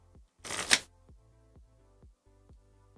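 Magic: The Gathering cards being shuffled: one brisk riffle of the deck with a sharp flutter at its end, close and fairly loud, over a quiet background of faint, regular knocking.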